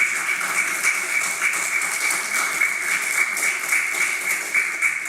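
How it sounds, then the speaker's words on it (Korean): Audience applause welcoming a guest at a church gathering, dense steady clapping that fills the room with no speech over it. "박수로 환영해 주시면 고맙겠습니다"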